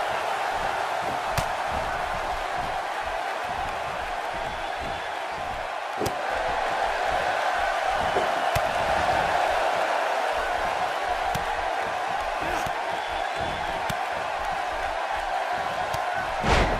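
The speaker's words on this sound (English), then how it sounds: "by the sound of this crowd tonight, it's easy to see why" A large arena crowd in a wrestling video game keeps up a continuous roar of cheering under a commentator's voice, with occasional sharp slam-like impacts.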